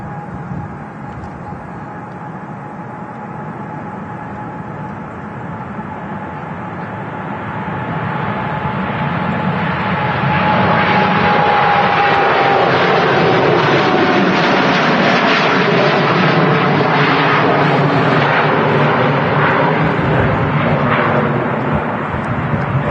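Nine-year-old Boeing 787 Dreamliner taking off from Manchester Airport on a long flight to Puerto Vallarta, a distant jet rumble that swells into a loud, sustained engine roar as it passes.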